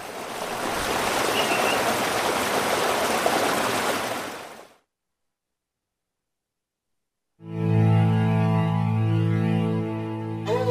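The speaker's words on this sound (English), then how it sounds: "This is from the brook sound story." Brook stream setting on an Ecotones ASM1002 sound machine, a steady broadband rush of flowing water that cuts off into silence, followed by a different tonal ambient sound.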